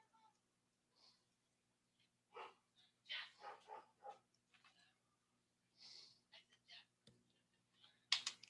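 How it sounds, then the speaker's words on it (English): Dogs barking in short, scattered bursts, fairly faint and indoors, mixed with small clicks and a low electrical hum. "Barking."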